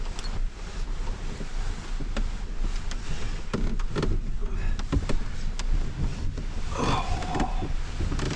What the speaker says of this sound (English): Well, we still have a little bit of rain to listen to.